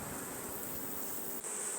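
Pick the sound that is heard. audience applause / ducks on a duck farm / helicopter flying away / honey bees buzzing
honey bees buzzing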